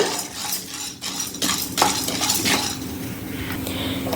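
Sesame seeds being stirred and roasted in a kadai for a lunch dish, with a spoon scraping and clinking against the metal pan in steady, close strokes over a soft background hiss.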